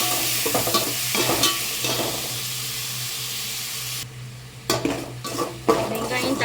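Onions and tomatoes sauté in a pan, a steady hissing sizzle with intermittent stirring scrapes and clinks close by, the frying dropping away for a moment before stirring resumes.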